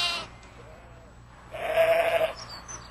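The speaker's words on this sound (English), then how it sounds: "She looks around and begins to call." A ewe in a field calls for her lamb with one clear, drawn-out bleat that rises out of quiet rural background sound, fairly near and moderately loud.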